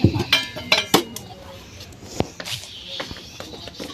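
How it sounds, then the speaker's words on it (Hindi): A metal kadhai (wok) being set down on a village kitchen stove, giving a few sharp metallic clanks and clinks early on, then quieter scattered knocks and handling noises close by. "इसको भी गर्म कर दिया है और अब कढ़ाई रख देते हैं।"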